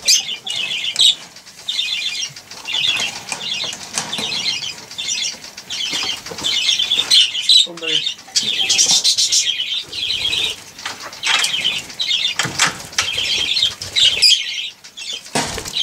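Busy fluttering and flapping of many lovebirds' and parakeets' wings in an aviary, with squawks and chirps mixed in, continuous and close throughout.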